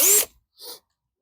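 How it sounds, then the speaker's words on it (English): A short, loud burst of a power drill whirring as it drives 3-inch screws into recycled wood for a garden bench, then a brief softer mechanical rasp after a pause. "let's get this all screwed in"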